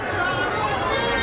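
Dense crowd hubbub at the Vrindavan Holi festival near Mathura, a steady close babble of many voices with footsteps and movement, loud and continuous.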